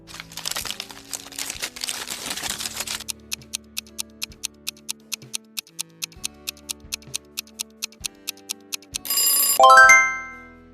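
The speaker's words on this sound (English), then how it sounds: "It is a wrapper opening." A wrapper crinkles and rustles loudly for about three seconds, followed by a steady run of sharp ticks like a countdown timer and a bright ringing chime at the end.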